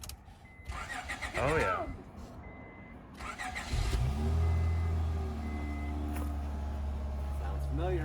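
A car engine cranks with a whirring starter, catches and revs up, then settles into a loud, steady idle, with a voice speaking briefly over it.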